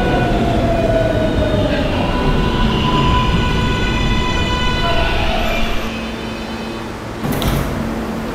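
An R143 car on the NYC R local train running, with a steady rolling rumble and whining motor tones that shift in pitch, then a brief hiss and thump near the end as it slows.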